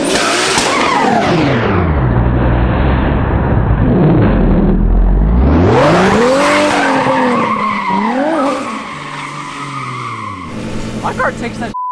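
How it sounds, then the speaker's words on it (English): A Mitsubishi Evo race car tears around a track at a track day, its engine loudly revving up and down through gear changes while tires skid and squeal, continuous and close throughout. "This thing sounds wild, ripping through."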